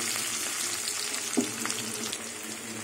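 Green chillies and onion frying in a pan until soft, a steady low sizzle with a brief stir or clink midway, moderately close and without talk.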